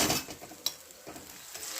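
Chopped onion sautéing in a pan for pav bhaji, a soft sizzle broken by a few scraping stirs and light clinks of a utensil against the pan, close and fairly quiet with no talking.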